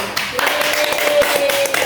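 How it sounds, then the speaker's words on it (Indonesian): Students in a classroom clap together, a brief patter of scattered hand claps with a faint tone and some voices underneath. "Tepuk tangan"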